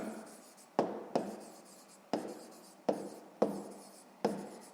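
A pen writes numbers on paper during a sixth-grade math exercise, with close, scratchy strokes broken into short repeated bursts, each starting with a sharp tap, and faint quiet speech in the background.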